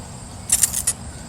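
A paint spray gun is squeezed for a test fan before painting a 1957 Chevy frame, giving a few quick, sharp hissing bursts of air close up, each lasting a fraction of a second.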